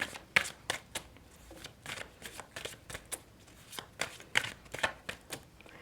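Tarot cards being shuffled by hand, a steady run of crisp riffling and slapping bursts heard up close, with barely any voice.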